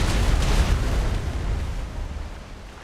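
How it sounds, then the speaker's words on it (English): A starboard cannon volley fires from a ship in a pirate naval role-play game, with a heavy booming blast up close that rolls into a dense rumble and slowly decays. "Station, starboard side, get ready for a volley. Volley! Fire!"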